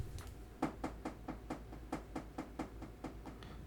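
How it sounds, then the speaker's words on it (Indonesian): Repeated knocking on a table picked up by a Fifine K690 USB microphone, about a dozen light, evenly spaced taps, quiet and slightly distant over a steady background hum. "Tapi kalau saya ketok-ketok di meja"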